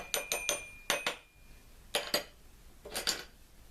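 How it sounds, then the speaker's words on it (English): Metal tea diffuser stirring loose-leaf English lavender black tea in a cup, making bright clinks and scrapes in quick clusters of three or four taps with short pauses between, close and fairly quiet. "Give it a bit of a stir with the diffuser."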